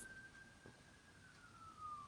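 Distant police siren wailing faintly, a single long tone slowly falling in pitch over a low room hum, with no talk over it.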